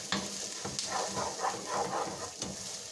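Onions frying in a pan toward caramelized, a close steady sizzle with scraping stirring strokes repeating in a loose rhythm, no voices.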